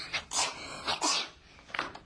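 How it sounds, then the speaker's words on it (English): A single person sneezes sharply, followed by a couple of further breathy sneezes and sniffs, close and loud with short pauses between bursts. "because she had bad allergies and was always sneezing"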